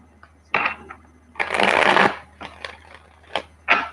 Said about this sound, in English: Let me give it a couple of shuffles.